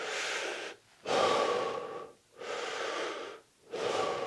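Forceful belly breathing during a body-shot defence demonstration: four strong, rhythmic breaths, close and loud, separated by short silent gaps, with no talking.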